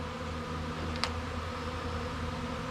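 Swarm of honeybees flying into a bee shed, a dense continuous buzzing drone, steady and close, with a brief sharp tick near the middle.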